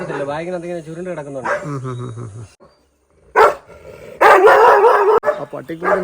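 A dog barks and yelps excitedly, with whining, howl-like calls, in short loud bursts close by, broken by a brief pause; people talk around it.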